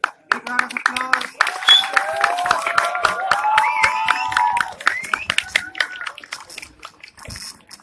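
A crowd claps and cheers at a community running event, with close, uneven hand claps and high whoops and shouts over them. The excitement swells in the middle and then breaks into scattered claps.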